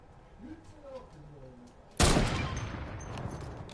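In a video game, a sudden loud burst of gunfire erupts and keeps roaring after a quieter stretch with some faint tones.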